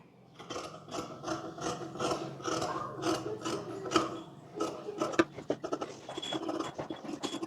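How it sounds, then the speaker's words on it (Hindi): Scissors cut through blouse sleeve fabric for a princess-cut blouse, giving a close, steady run of rasping snips and scratchy rubbing that grows slightly busier toward the end, with no voices. "अब हम स्लीव की कटिंग कर लेते हैं"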